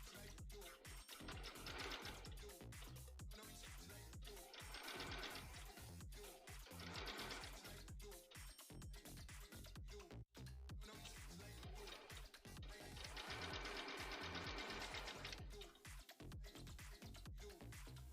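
A sewing machine stitches in horsehair braid, running loud and close in long continuous bursts with a rapid mechanical patter and only brief pauses between runs.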